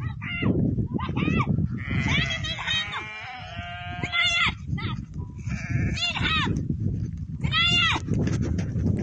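Sheep bleating close by in a rural yard, several wavering cries repeating across the stretch and mixed with people talking.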